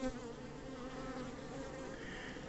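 A dense swarm of honeybees drones steadily around a hive, a continuous, even buzz that is faint yet fills the whole moment with no voices.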